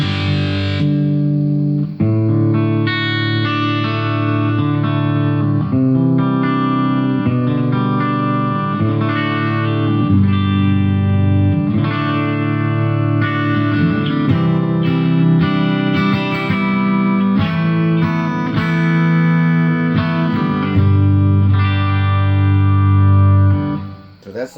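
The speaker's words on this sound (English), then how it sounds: "we can hear what this guitar sounds like without some distortion on it" An electric guitar plays a steady run of chords and single notes with a clean tone on the treble pickup and a light wash of reverb, loud and close throughout.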